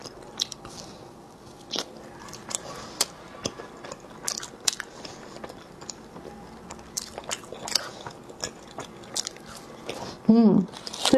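Someone eats a cranberry-topped cookie with a chewy, nougat-like outer layer, making close, crisp bites and soft chewing clicks scattered through a quiet room, with a voice briefly present.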